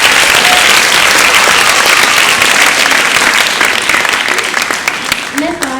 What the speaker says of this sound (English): So can we have another round of applause for Tia?